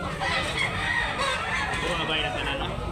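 Roosters crow and hens cluck amid constant background bustle at a live chicken market in Talisay, Cebu. The calls are moderately distant and overlap with a continuous crowd murmur.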